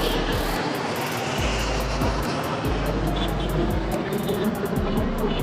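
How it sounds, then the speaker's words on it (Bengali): A Biman Bangladesh airliner takes off at an airport, its jet engines producing a loud, continuous thrust roar with a deep rumble that fills the whole stretch, close and overwhelming. "বিমানের থ্রাস্টের গর্জনে আসলে আমরা সবাই প্রকম্পিত"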